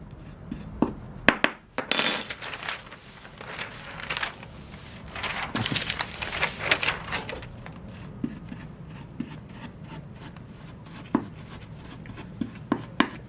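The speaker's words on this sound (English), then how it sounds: "So just break them down with a spoon. And carry on mixing." Metal spoon scraping, pressing and stirring raw herbs inside a glass, with gritty rubbing strokes, soft crunches and occasional clinks against the glass, close and fairly loud with no talk.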